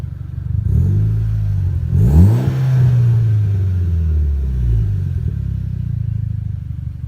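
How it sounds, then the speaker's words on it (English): Mitsubishi Lancer Evo engine revved while parked, a deep close rumble that climbs in quick blips and then settles back toward a steady idle. "let me rev it a bit so you guys can hear it"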